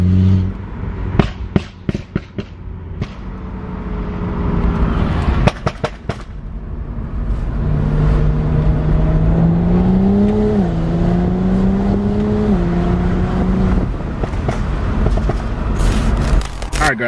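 A car with a tuned exhaust revs outdoors, loud sharp pops and bangs crackling early on, then a long droning rev rising and falling, with a few more pops near the end.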